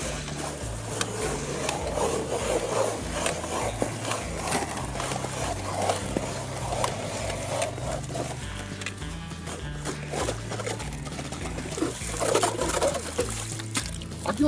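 An ice auger boring a hole through frozen lake ice for smelt fishing at Uchinuma, a steady grinding mechanical drone with rhythmic low pulsing that runs continuously and loudly throughout.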